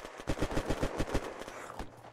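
Rapid automatic fire from an AUG rifle in a video game, a fast rhythmic string of about a dozen punchy shots with a short pause near the end, loud and close.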